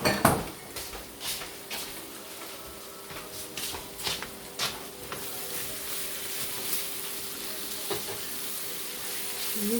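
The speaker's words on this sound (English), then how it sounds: "And you just fry it until your meat's done." Chicken frying in a pan with a steady close sizzle, punctuated early by clinks and scrapes of utensils stirring against the pan, then settling into continuous hiss.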